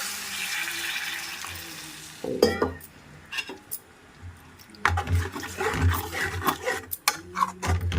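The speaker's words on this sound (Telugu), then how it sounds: "ఇప్పుడు మనం నీళ్ళు పోస్తున్నాను" Water is poured into bitter gourd curry in a hot pan, first a steady hiss and pour, then clanks and scrapes of a utensil against the pan in irregular bursts.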